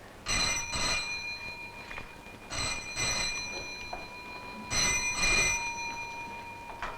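An old telephone bell rings in three long, loud bursts with short pauses between them, alone in a quiet room, announcing a long-distance trunk call from Calcutta in a 1969 Hindi suspense film.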